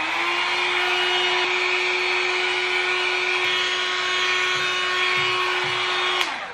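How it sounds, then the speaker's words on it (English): A Panasonic hair dryer runs on its level-one cool setting with a steady, close whine and airy blowing hiss, holding constant for several seconds before it clicks off, with no talking. "So now after blow drying in really warm air, I kind of put it in number one, like the level one, in cool air"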